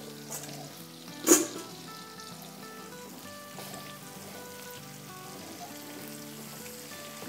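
Onion and other chopped ingredients fry in a pan, a steady soft sizzle with light crackles throughout and one sharp louder pop near the start, fairly close and with no talking.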